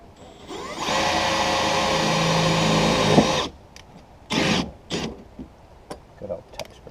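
A power drill driving self-drilling screws whines steadily for a few seconds, rising slightly before stopping abruptly, followed by short bursts of talk and clatter.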